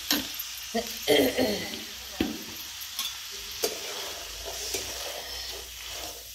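Chickpeas sizzle as they are stir-fried in a pan for chana sukka, a steady frying hiss broken by scraping and tossing sounds, with voices talking intermittently over it.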